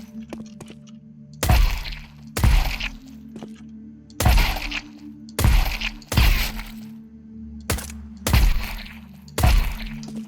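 Gunshots ring out in the video game CS2 while the player counter-strafes: eight sharp, loud single cracks spaced about a second apart, each with a short ringing tail.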